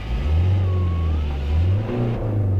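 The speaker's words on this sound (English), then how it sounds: "the car sounds nice. The engine sounds spot on" A Renault Grand Scenic 1.9 dCi diesel engine runs steadily with a low, even rumble, swelling slightly as it revs, close by with no talking.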